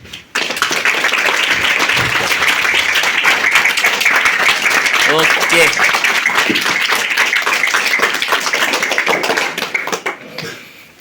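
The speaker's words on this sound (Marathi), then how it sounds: "तुमच्या सगळ्यांसाठी एकदा टाळ्या होऊ द्या" Students at a Sunday morning meeting break into a dense, loud round of clapping that carries on steadily for about ten seconds before tapering off, with a brief spoken word in the mix.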